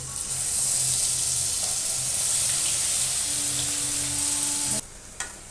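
Onion frying in hot oil in a kadai with fenugreek and fennel seeds, a loud steady close sizzle with stirring that runs almost the whole time before cutting off near the end.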